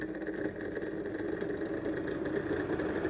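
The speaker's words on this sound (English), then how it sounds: "The fan spins. And the fan accelerates." A small computer fan spins on a homemade magnetic stir plate built for yeast starters, giving a steady, close mechanical whir with a mid-pitched motor hum that holds level throughout, without talk.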